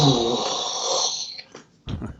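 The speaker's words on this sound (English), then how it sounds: "I love it when I yawn like that" A man yawns after a guided meditation session: a long, drawn-out voiced exhale close to the microphone, fading out, then a short breathy sound.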